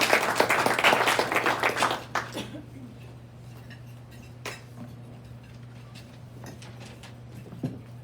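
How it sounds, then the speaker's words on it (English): At a club meeting, an audience claps for about two seconds before the applause quickly dies away, leaving a quiet room with a steady hum, occasional clinks of dishes and small knocks. "Thank you for that thunderous ovation."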